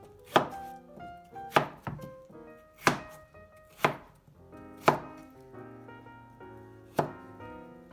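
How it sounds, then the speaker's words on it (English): A kitchen knife chops vegetables into quarters on a cutting board in a home kitchen, with about eight crisp, evenly spaced cuts over a soft background of light scraping. "And then you start cutting them into little quarters"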